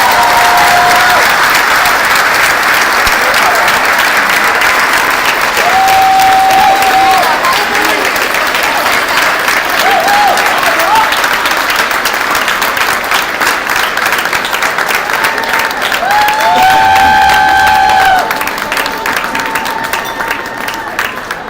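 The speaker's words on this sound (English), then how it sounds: "Give yourself a round of applause." A banquet audience at an MLK celebration gives a sustained round of applause, dense clapping that fills the room for about twenty seconds with faint crowd murmur and brief tonal notes mixed in.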